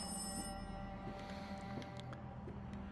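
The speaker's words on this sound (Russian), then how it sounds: "надо отвечать на звонок. Блин, короче, где телефон на этот раз?" A telephone rings within the Rise of Insanity VR horror game, a steady electronic ringing that carries through the whole stretch over a dense, droning ambient background.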